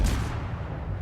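A heavy naval gun aboard the Soviet tier 6 destroyer Ognevoi in World of Warships fires a shell: one deep, booming blast that rolls on as a low rumble for about a second, loud and close.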